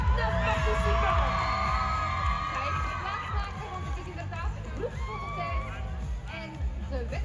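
A large convention audience at a cosplay contest cheers, whoops and claps loudly and continuously for the participants, a dense roar of crowd noise with scattered yells.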